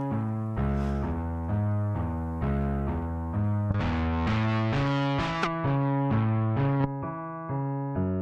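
Distorted, saturated synth or guitar tones from a tape saturation effect preset on iOS play a stepping melodic pattern, thick and buzzy with rich harmonics, steady and loud with no voices.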